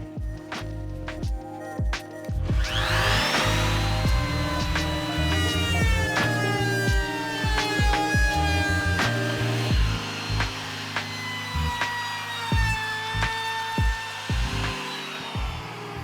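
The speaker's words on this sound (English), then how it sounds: "So this is a pretty standard chamfer bit for the router here." A high-pitched router with a chamfer bit whines continuously, its pitch rising and dipping as it cuts along the top edge of a live edge wooden tray, with short sharp bursts.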